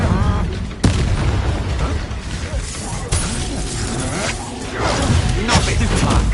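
An Incendio fire spell blasts in the video game Hogwarts Legacy, with sharp booming bursts and fiery whooshes over dense combat noise, and a character voice speaks over it.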